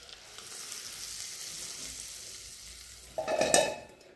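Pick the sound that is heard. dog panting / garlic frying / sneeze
garlic frying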